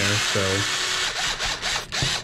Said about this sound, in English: obviously I wouldn't be drilling and stopping like this